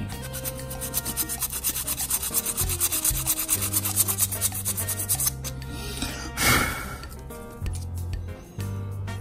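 Steady rasping abrasion of sanding a saxophone mouthpiece, repeated strokes throughout, with a brief louder scrape near the end.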